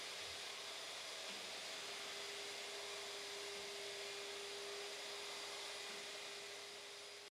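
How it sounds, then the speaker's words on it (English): Continuous loud whine of a professional wet and dry vacuum cleaner running steadily while vacuuming a floor during stripping, with a constant hum throughout. "use a professional wet and dry vacuum cleaner"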